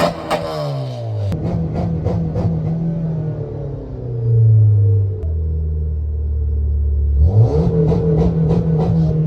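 Car engine revving through an exhaust fitted with a new resonator, a deep rumbling idle rising and falling with revs, loud and close, with a low droning hold in the middle and clattery pulses.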